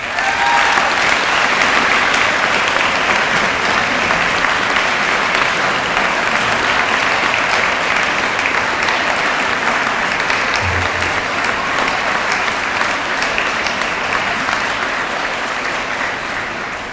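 A banquet crowd at a high school fall sports awards night gives award winners a big round of applause, loud and sustained throughout with dense, even clapping.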